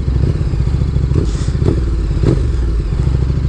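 KTM Super Duke 1290 R motorcycle engine idling loud and close, a steady deep rumble with a few sharper thuds and a brief rising blip of revs, no talking.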